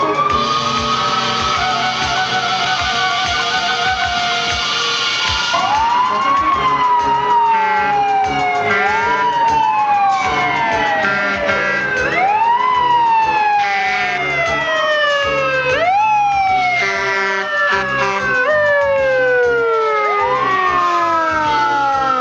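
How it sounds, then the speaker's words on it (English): Loud fire truck sirens wail continuously, several overlapping tones rising and falling in repeated sweeps, close by and dominating the scene. "trucks hurry to the fire, using their sirens and lights to warn people to get out of the way."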